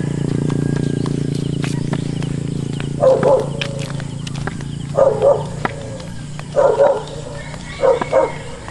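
Several dogs bark in short separate bursts a couple of seconds apart, moderately close, over a steady low outdoor hum during a summer walk in Odiongan.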